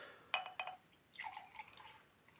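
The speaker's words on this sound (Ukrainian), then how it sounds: "Наливаємо дружні." Two light clinks, then a short, quiet trickle of liquid being poured into a cup close by.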